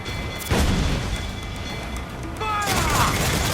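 Ship cannons firing in Assassin's Creed 4 Black Flag: two heavy booming blasts about two seconds apart, each with a rumbling crackling tail, loud and close.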